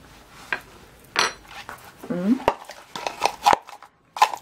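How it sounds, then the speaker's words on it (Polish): Potato and quark filling for pierogi ruskie is stirred with a utensil in a bowl, making scattered clinks, taps and soft scrapes at close range, with a voice heard briefly. "Teraz to wszystko mieszam."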